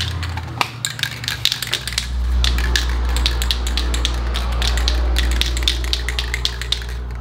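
High heat engine paint hisses from a spray can onto early Chevrolet valve covers, a steady close spray running for several seconds over a low hum, with clicks and taps from handling the can at the start.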